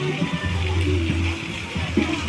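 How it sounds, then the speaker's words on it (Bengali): A fountain splashes and gurgles continuously in a park in the evening, with low hums and faint background voices mixed in. "রীতিমতো এখানে ঝর্ণার ব্যবস্থা আছে"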